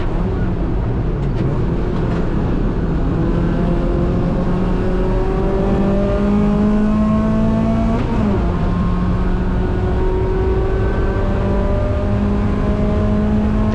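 Race car engine at Gingerman Raceway, loud and close, revving steadily with rising harmonic sweeps as it accelerates out of a corner, a brief shift dip near the middle, under faint speech.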